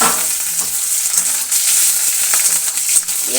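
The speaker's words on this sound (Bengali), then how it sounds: "এবার এই যে কুচিয়ে রাখা পেঁয়াজটা দিয়ে দেবো।" Chopped onion hits hot oil in a pan where spices have already scorched, giving a loud, steady sizzle with occasional stirring scrapes throughout.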